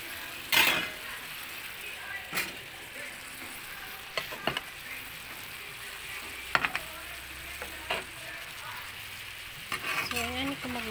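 Cabbage stir-frying in a pan, a steady soft sizzle with sharp clacks and scrapes of the utensil against the pan at irregular moments.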